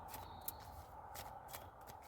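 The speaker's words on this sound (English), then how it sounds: "We're going to shuffle these up again." Cards are shuffled by hand, a close, soft sequence of riffling and sliding flicks in quick irregular bursts, fairly quiet with no talk over it.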